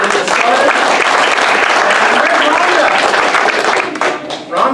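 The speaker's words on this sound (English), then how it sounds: "Nice round of applause for my lovely bride, Linda, for getting us started." An audience at an improv comedy show claps and cheers loudly, a dense, continuous round of applause from a crowd that fades briefly near the end.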